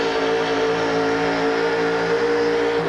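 Monster truck engine roaring steadily at a 1989 USHRA truck pull in Minneapolis, a loud sustained drone with a strong low tone that holds without pause.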